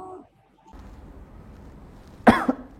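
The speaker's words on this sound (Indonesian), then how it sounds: "父の咳が気になりますね。" A father's dry cough, two or three close, harsh coughs near the end of an otherwise quiet stretch of faint background hiss.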